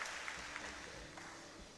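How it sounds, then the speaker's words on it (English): Brief, faint applause from an audience at a school felicitation ceremony for grade X and XII toppers, welcoming a guest speaker; soft, distant clapping that holds steady for under two seconds. "Audience, please join me in welcoming Mr. Nishkal Rao with a warm round of applause"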